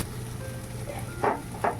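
Fried fish bones drop into a hot pan of frying greens, bringing a low sizzle and then two sharp bursts of spatter close up near the end.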